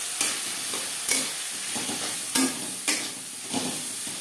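A spatula scrapes and stirs tomato and chili with salt and turmeric in a pan, giving five or six sharp, regular scraping strokes over a soft, steady sizzle.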